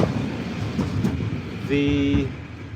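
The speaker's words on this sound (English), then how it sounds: "So, here we have the tram go by." Tram in the town of Daugavpils, Latvia, rumbling past with a low clatter of wheels, rising briefly to a tonal electric whine and squeal before fading, heard from nearby on the street.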